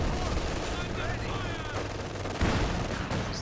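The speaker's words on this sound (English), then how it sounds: "There's this barrage again. Machine gun this time didn't take too much damage." Dense machine gun fire and barrage explosions from the strategy game Company of Heroes 2 rattle on steadily, with a louder impact midway, under a voice commentating.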